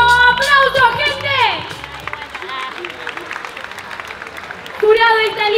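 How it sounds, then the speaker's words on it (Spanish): A crowd at a rap battle breaks into broad, steady applause after an emcee's shouting, with claps and cheers running under the noise until a voice cuts back in at the end. "¡Aplauso, gente!"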